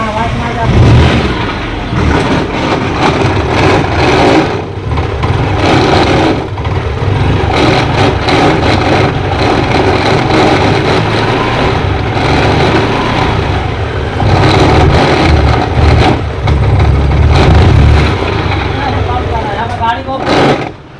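Scooter engine running with an abnormal noise, a steady loud mechanical drone with irregular rattling that continues throughout, close to the microphone, with a voice speaking over it.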